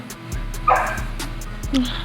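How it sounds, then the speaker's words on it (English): A neighbor's dog barks and yips a few times from a short way off, heard in an outdoor backyard setting while someone cooks wild hog pulled pork. "Neighbor's dog's going crazy."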